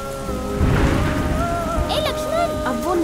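Steady rain falls through a Bangalore street scene in a dubbed Kannada film, a continuous hiss under swelling background music with faint voices mixed in.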